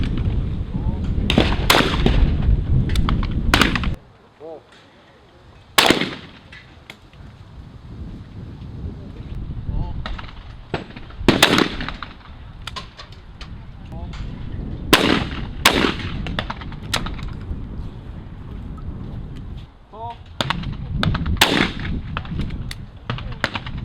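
Shotgun blasts at an outdoor skeet, trap and sporting clays range in San Antonio, loud sharp reports spaced a few seconds apart with wind noise on the microphone and some talk between shots.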